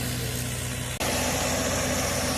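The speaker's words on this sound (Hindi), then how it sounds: "ये देखो भाइयों, ये ट्रैक्टर दिखाता हूँ, आवाज़ आ रही ट्रैक्टर की" A new tractor engine idles steadily up close, a continuous low mechanical rumble with a brief dropout near the one-second mark before the running sound resumes at the same level.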